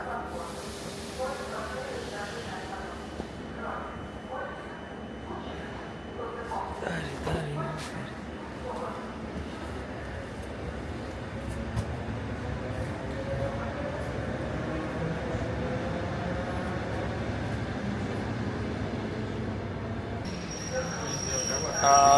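Old Moscow subway electric train running, a continuous low rumble and hiss of wheels and motors with a faint hum, steady for the whole stretch, with a louder burst at the end.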